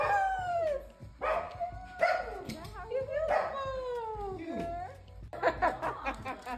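Several high, yelping barks and whines from a small dog, close by, repeating in bursts with some talking mixed in.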